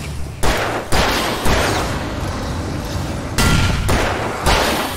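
Explosions and heavy gunfire in the video game Alan Wake Remastered, a string of sharp, loud blasts arriving every second or so, each with a booming tail.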